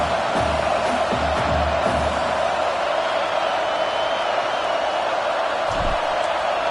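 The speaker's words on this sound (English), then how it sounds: "This crowd trying to do its part to get inside the kicker's head." Stadium crowd at a college football game, Penn State against Wisconsin, roars in a steady, dense wash of cheering and whooping while a commentator talks over it.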